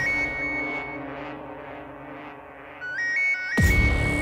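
A phone rings with melodic electronic tones that repeat over a TV drama's background score. A sharp, loud hit cuts in at the very end.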